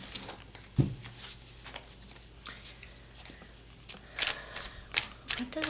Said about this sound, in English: Why can't I shuffle right now?